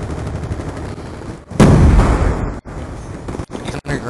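Gunfire from a shotgun in a capture-the-flag shooter video game, a loud sustained burst of blasts with some gaps between shots, up close and without speech.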